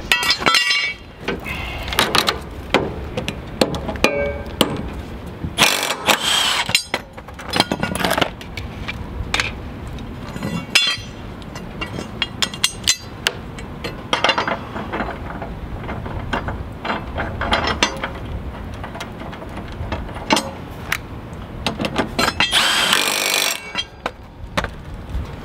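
Hand tools work on a jacked-up lawnmower while its blades are changed, giving repeated ratcheting, metallic clinks and clanks in irregular bursts, close and fairly loud, without talk.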